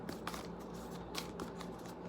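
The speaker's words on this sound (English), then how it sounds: "I'm gonna do a quick shuffle of them right quick" Tarot cards shuffled by hand in a quick riffle, with soft papery flutters and a couple of brighter snaps, close and steady for about two seconds, no voices.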